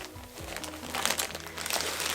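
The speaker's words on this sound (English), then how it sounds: "So I'm going to very carefully take it out of its bag." A plastic bag crinkles and rustles in brief, irregular bursts as a beaded bag is carefully drawn out of it during an unboxing, close to the microphone.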